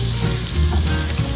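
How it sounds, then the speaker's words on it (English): A jalapeño sears loudly in a hot pan inside a small camper trailer at a campground: a dense, close, continuous sizzle and crackle, with no voices. "And right now you see how beautiful it's seared."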